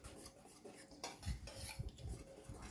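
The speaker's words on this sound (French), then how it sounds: "on va venir mélanger sommairement la levure avec la farine" Soft scraping and clinking of a utensil stirring yeast into flour in a bowl, quiet and close, with a few light knocks against the bowl.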